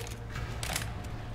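A gun being reloaded in the video game Left 4 Dead 2: a short burst of mechanical clicks and metallic ratcheting, with a brighter clack in the middle, close and moderately loud over a steady low background hum.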